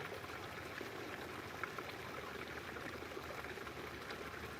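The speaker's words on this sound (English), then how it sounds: "Especially with this serene sound of the waterfall." A waterfall pours steadily, giving a faint, even rush of falling water with no breaks and no voices.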